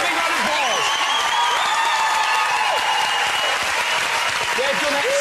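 Studio audience applause on a family game show after a £10,000 win, continuous loud clapping with some cheering and voices mixed in throughout.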